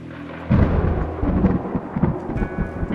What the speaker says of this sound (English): Rolling thunder echoes from outside.